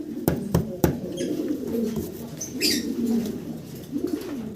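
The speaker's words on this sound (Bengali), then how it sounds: "বিগ সাইজের এক জোড়া জায়ান্ট হোমা একদম টপ কোয়ালিটির ইম্পোর্টেড একটা পেয়ার" A pair of big imported giant homer pigeons coo in a cage among many other pigeons, with soft repeated low coos, a few sharp taps and a brief flutter close by.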